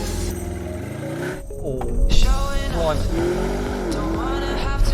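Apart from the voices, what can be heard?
Audi RSQ8 SUV launch control acceleration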